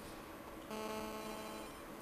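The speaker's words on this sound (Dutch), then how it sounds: "Op dit moment gaat dus dit toestel over." A work mobile phone rings with a steady electronic ringtone. It starts partway through and holds at a constant, fairly quiet level over background hiss, with no talking.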